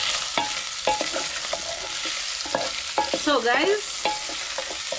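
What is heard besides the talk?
meat frying in a pan with a little oil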